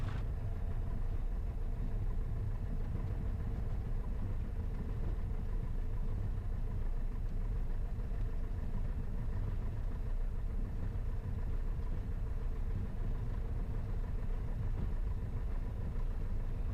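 A newly bought small airplane's engine idles as it taxis, giving a steady, loud, low droning rumble that holds even throughout with no voices over it.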